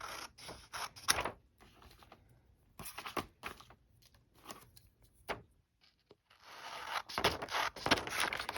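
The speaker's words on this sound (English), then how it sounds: "and then I'll cut my strips" Scissors snip through paper for a collage in quick bursts of crisp cutting and sliding scrapes, with short pauses between strips, close and fairly quiet.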